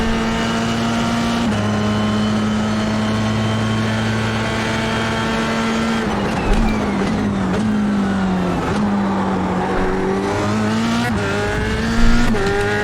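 Formula 3 race car at Sebring in the iRacing sim, its engine droning steadily near and loud, then downshifting and dipping through a corner before revving back up, with brief tire scrubs.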